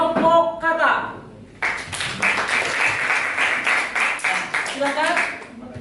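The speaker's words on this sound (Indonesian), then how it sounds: "Tepuk tangan buat kelompok kata." Students in a classroom clap for a presenting group, a dense burst of applause that starts suddenly after a short stretch of talking, with voices also heard near the end.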